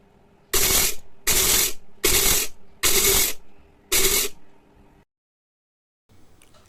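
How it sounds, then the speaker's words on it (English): A blender grinds basmati rice coarsely in a closed jar, giving five loud, even, whirring bursts of about half a second each with short gaps, then silence and a faint rustle. "In a blending jar, take 4 tablespoons of rice. Now close lid and grind it coarsely."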